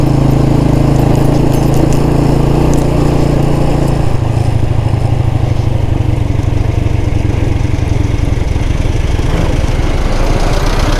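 Yamaha YBZ 125cc and DYL 125 sports motorcycles ride an unpaved dirt road toward a village in Pakistan, their engines droning loudly and continuously, the tone shifting to a rougher, lower throb partway through.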